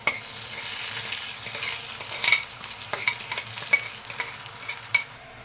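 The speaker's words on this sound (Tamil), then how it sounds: "இப்போ நம்ம வந்து தாளிச்சதை வந்து இதில் போட்டுக்கலாம்" Hot tempering poured into Nagercoil-style tamarind curry sizzles steadily, a soft crackling hiss punctuated by scattered sharp pops and spits that fade toward the end, with no voices.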